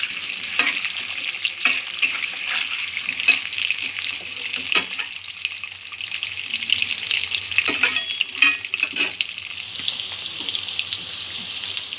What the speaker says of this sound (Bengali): হালকা ব্রাউন করে ভেজে নেব।